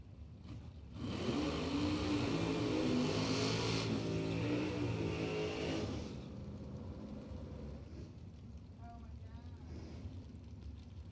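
Chevrolet Cavalier and S10 race cars in a door-class race roar past loudly for several seconds, then fade to a steadier, more distant engine drone with crowd noise and wind.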